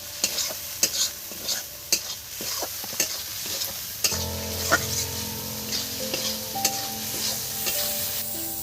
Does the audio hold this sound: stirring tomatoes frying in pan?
yes